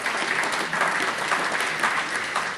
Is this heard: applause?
yes